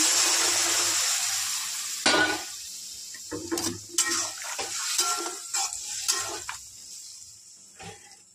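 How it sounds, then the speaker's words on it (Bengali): Hot water poured into a cooking pot of Bengali jhinge aloo posto, ridge gourd and potato with poppy seed and turmeric, a splashing pour followed by clinks and stirring clatter, with no talk. "গরম জলটা ঢেলে দিলাম।"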